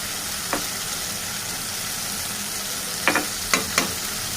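Raw banana curry with chili powder stirred in a hot pan gives a steady oil sizzle, broken by a few sharp spoon scrapes and clacks against the pan near the end.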